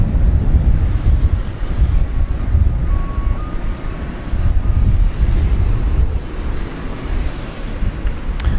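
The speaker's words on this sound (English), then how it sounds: "American 1332 arriving from Denver in Airbus A321." An American Airlines Airbus A321 arriving from Denver at DFW Airport at night rumbles steadily through strong wind buffeting the microphone, a broad, sustained roar that holds at a constant level throughout.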